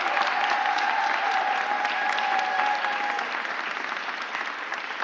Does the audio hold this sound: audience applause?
yes